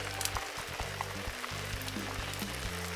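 Oden simmering in a pot at a rainy campsite, a steady dense bubbling and sizzling hiss with rain pattering, heard close and continuous under a low droning hum, no speech.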